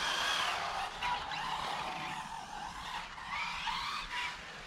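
An RC car fitted with a six-pole Toro 2400 kW motor on a 15 or 16 tooth pinion, running a 7700 battery pack, accelerates outdoors with a steady high-pitched motor whine and tire noise rising and falling in waves.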